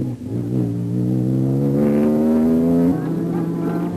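A Ford Ranger rally truck engine revs and accelerates during the Toyota 1000 race, a close, loud rising drone that climbs steadily in pitch, then drops off as the truck shifts.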